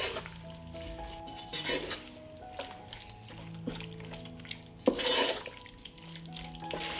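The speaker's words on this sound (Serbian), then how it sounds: "Zatim dodajem meso i sve ću ovo pržiti zajedno 5 minuta." Meat and paprika frying together in a pan, a soft sizzle under clinking and scraping stirring sounds, with one louder stir or pour burst midway, quiet and close with no talking.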